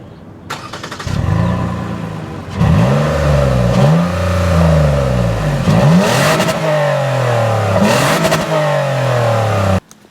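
A 2014 Toyota Highlander's V6 engine revs hard while driving through mud off-road in Colorado, with repeated rising and falling surges that stay loud and close across the whole stretch.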